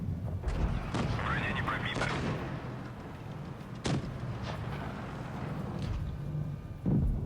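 Tank cannon shots from the mobile game World of Tanks Blitz, an American T34 battling Russian T-34s: several sharp booms at uneven intervals over a constant rumbling engine bed, with a voice talking over parts of it.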